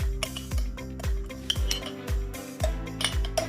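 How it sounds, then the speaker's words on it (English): Burger ingredients being mixed in a bowl by hand with a utensil, a rhythmic series of clinking, scraping strokes about twice a second, close and clear, no talking. "And we're going to mix that."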